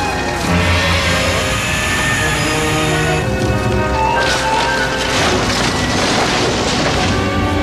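A house burns with a steady, loud, rushing roar of fire and a deep rumble that runs without a break.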